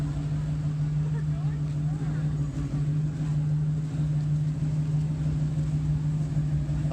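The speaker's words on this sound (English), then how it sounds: "Rev it, baby, rev it." A car engine idles and revs at a beach, a loud continuous low rumble that stays steady throughout.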